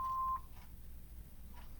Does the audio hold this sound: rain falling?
no